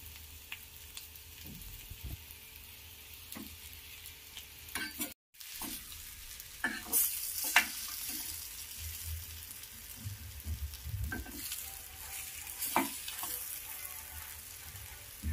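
Boiled eggs frying with ground pepper in a pan produce a soft, steady sizzle with scattered clinks and stirring scrapes, fairly quiet and close, briefly dropping out partway through, with no voices.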